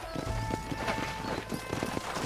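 In the video game Red Dead Redemption, horse hooves clip-clop in a quick, busy patter over a dense ambient background, as though several riders are approaching together.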